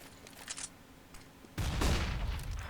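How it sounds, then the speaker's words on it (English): Flashbang and grenade going off in a Counter-Strike match on the Mirage map: a sudden broadband burst bursts in partway through and stays loud and rushing to the end, after quieter scattered game noise. "flashbang and grenade go straight past Tabson's face"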